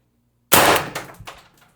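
Single shot from an Umarex TR50 air rifle, a sharp close report followed by a short decaying ring and a couple of faint metallic clanks, with silence before it.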